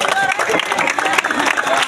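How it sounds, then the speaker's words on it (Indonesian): Crowd at a Ramadan Cup event breaks into brief, full applause, loud and close, many hands clapping in a continuous rattle for under two seconds. "Oke, tepuk tangan yuk."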